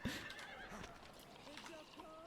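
A horse in a video game gives a short, faint neigh amid quiet game sounds and soft voices.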